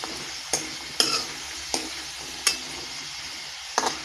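Dried lentil dumplings (sandge) fry in a little oil while being turned, a soft steady sizzle broken by about six sharp scraping stir strokes against the pan, close and with no voice.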